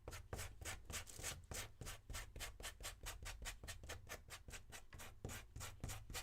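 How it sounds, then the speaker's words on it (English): Steady, rhythmic rasping of a coarse 80-grit sanding sponge scrubbing back and forth to scuff a surface, close and fairly quiet, with no talking. "I'm going to take my rougher grit sanding sponge"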